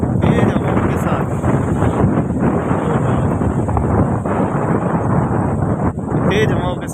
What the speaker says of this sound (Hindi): तेज हवाओं के साथ बरसात भी हुई